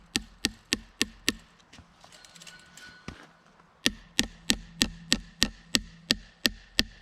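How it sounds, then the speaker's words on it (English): Hammer blows driving a nail to fasten wire fencing to a wooden post while building a pig pen, sharp close metallic strikes in two quick steady runs of about five and eleven evenly spaced hits, with a brief pause between. "Nailing the wire to the post."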